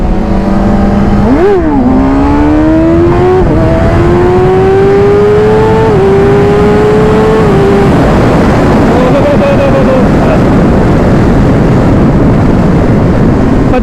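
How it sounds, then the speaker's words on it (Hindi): Motorcycle engine revs and shifts through rising tones at highway speed on a Kawasaki during a wheelie attempt, loud and close under heavy wind rush, fading into steady roaring wind noise. "चलो एक बार व्हीली ट्राई करते हैं।"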